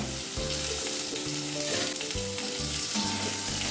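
Tomato added to hot oil in a pan while cooking a rohu fish curry with potato and pointed gourd, giving a loud, steady, close sizzle and crackle throughout, with some pan clatter.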